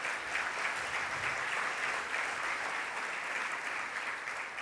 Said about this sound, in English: Will you guys please help me give Tom a round of applause?